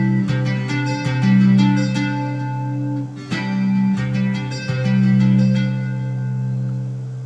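Guitar tapping pattern, a rapid, evenly spaced run of tapped notes in two phrases over a sustained low ringing tone, moderately quiet and without speech.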